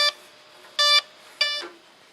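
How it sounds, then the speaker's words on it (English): The ESC of a Losi LMT Grave Digger RC monster truck beeps three times as it powers on, producing short electronic tones spaced apart and heard up close in an otherwise quiet setting. "let's put power to the ESC"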